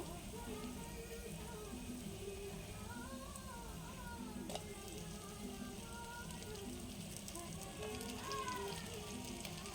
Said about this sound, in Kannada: ಟೊಮೊಟೊ ಹಾಕ್ಕೊಂಡು ಒಂದು ಐದು ನಿಮಿಷ ಚೆನ್ನಾಗಿ ಫ್ರೈ ಮಾಡಬೇಕು